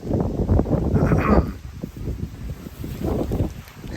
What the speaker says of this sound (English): it's already getting a little windy